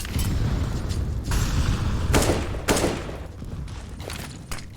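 Grenades exploding during an esports video game match, a burst of heavy booms and rattling blasts piling up over a few seconds, loud and dense, with no speech.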